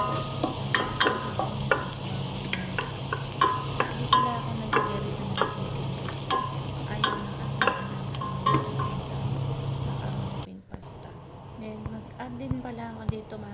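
Garlic sautéing in a pan for a macaroni with cream sauce, with repeated scraping stir strokes over a steady low sizzle for about ten seconds, then quieter cooking noise.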